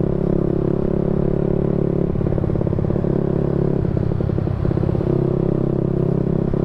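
A motorcycle with an aftermarket filter and exhaust drones steadily at close range, with rattling, pulsing exhaust bursts as it rides along.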